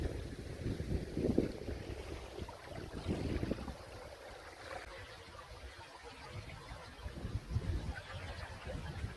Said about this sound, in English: I don't think this wind's gonna die down, but we'll see what happens.